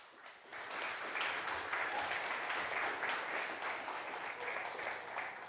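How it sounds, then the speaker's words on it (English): Audience applause for a speaker at a tech meetup, steady moderate clapping from a room of people that holds evenly for several seconds, heard alone without talk. "give him a warm round of applause"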